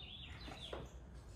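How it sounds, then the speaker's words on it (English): Birds chirp faintly in a quiet residential backyard, seen from a covered patio; soft scattered calls and tweets sit over a low steady ambient hum with no talking. "You can hear the birds chirping."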